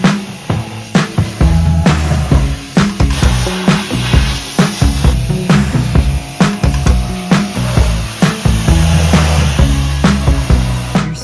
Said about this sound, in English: I feel like I'm probably spraying a lot of dirt up